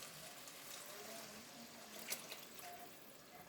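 Water is poured into a pot of quinoa, a soft continuous splashing and trickle with a brief brighter splash midway, fairly faint and steady.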